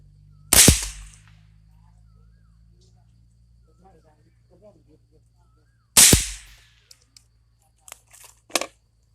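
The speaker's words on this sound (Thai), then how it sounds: "ยิงด้วยปืนกึ่งเซมิออโต้ฮะเซมิออโต้หรือว่าปืนกึ่งอัตโนมัติ" A semi-automatic Tippmann M4-22 rifle firing Eley .22 rounds at a 100-meter range: two sharp, loud cracks about five seconds apart, each with a brief ringing tail, followed by a few faint clicks.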